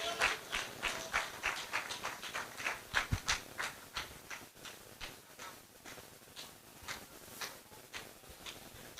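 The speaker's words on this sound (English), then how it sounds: "Please keep clapping for this lady as she's coming in." A small audience at a university faculty lecture and awards ceremony claps in scattered, sharp, fairly faint beats that thin out toward the end.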